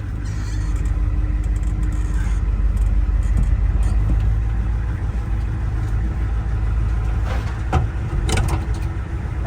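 A Ford diesel vehicle pulls away and drives on, its engine a steady low rumble throughout with brief brushing and scraping noises of branches against the body.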